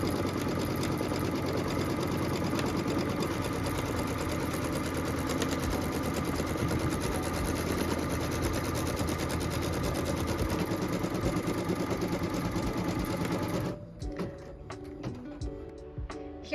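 An embroidery sewing machine quilting a pieced block runs loud and steady with a fast, even needle rhythm for about fourteen seconds, then stops, leaving scattered clicks and small handling noises.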